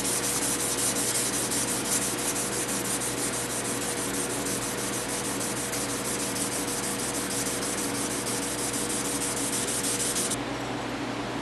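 A knife blade is hand sanded with abrasive backed by a piece of phenolic to remove 400 grit scratches, giving a steady, unbroken scratchy rubbing that runs alone throughout.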